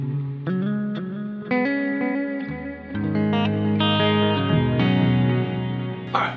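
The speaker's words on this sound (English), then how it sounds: "We've got delays going into the reverb, sounds quite nice." Electric guitar played clean through a BOSS GT-1000 multi-effects unit, delays feeding into reverb, with sustained chords and notes ringing into long shimmering repeats and a washy tail, close and full.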